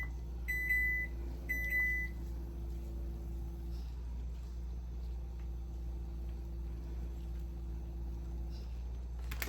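A kitchen oven that has finished preheating gives two short bursts of bright electronic beeps near the start, followed by a low steady hum of the appliance for several seconds.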